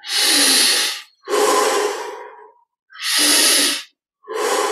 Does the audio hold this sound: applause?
no